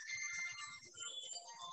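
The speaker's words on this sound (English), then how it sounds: "I apologize for my phone ringing." A mobile phone ringtone plays a quick, bright repeating melody, faint and a little distant, with no talk over it.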